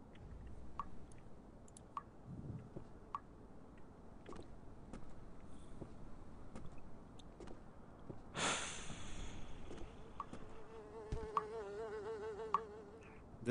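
Faint, steady buzzing of flies in an elevator in a horror video game hums throughout with scattered clicks and taps, then a sudden whooshing burst and a low tonal drone.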